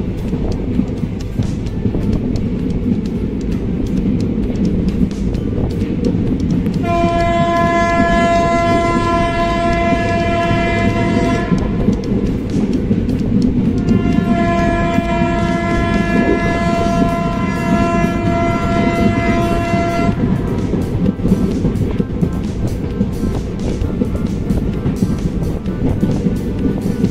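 A train running from Delhi to Dehradun rumbles steadily on the rails and sounds two long, loud horn blasts, each lasting several seconds.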